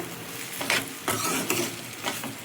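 Potato fry is stirred in a sizzling pan, with a steady frying hiss beneath several close scraping strokes of the spoon spaced about half a second apart.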